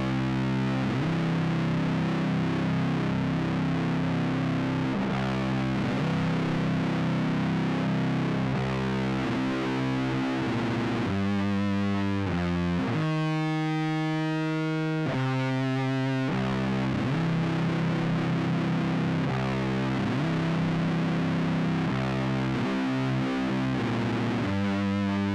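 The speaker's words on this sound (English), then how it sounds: "gonna play it clean a couple times, then we're gonna kick on the fuzz" A riff on an electric guitar in C standard tuning with the fuzz engaged: thick, sustained distorted chords in a repeating heavy pattern, with a brief stretch of a different sharp, buzzy tone midway, played alone.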